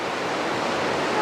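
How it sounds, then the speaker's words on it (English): Mediterranean waves break on the shore at Anzio in a brief, loud, continuous wash of surf, roughened by wind buffeting the microphone. "This is the wonderful ocean here."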